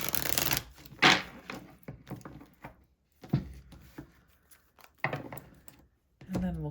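Brisk riffling bursts of a large tarot deck being shuffled, several quick flurries separated by pauses, close and crisp, with brief speech between them.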